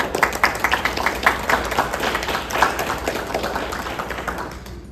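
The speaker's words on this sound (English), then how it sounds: "We give a round of applause." Audience at a school board meeting applauds, a steady crowd clapping with distinct individual claps standing out, fairly close and continuous before tapering off.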